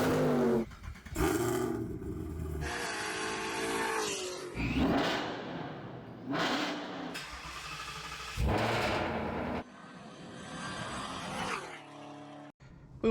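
Ford Mustang engine running in quiet exhaust mode, heard from the cabin as a series of low revving swells and throttle blips with brief quiet gaps between them.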